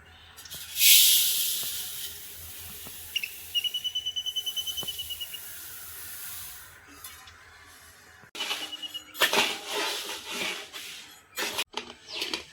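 Black kavuni rice dry-roasting in a pan, with soft scraping and rattling of grains, a brief run of rapid clicking, then louder bursts of scratchy stirring in the second half, fairly faint overall.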